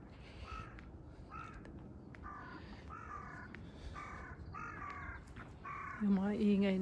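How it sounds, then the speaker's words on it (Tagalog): Crows caw repeatedly in a series of harsh calls near a very old house built of wood with a cement upper storey, on a cold day, with a louder burst of calling at the end over steady outdoor background. "Yung mga ingay na yan yung ano, yung mga ibon."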